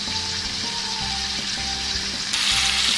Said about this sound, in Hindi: अब मैं इसको अच्छी तरह फ्राई करूँगी जब तक कि इसका कलर ना चेंज हो जाए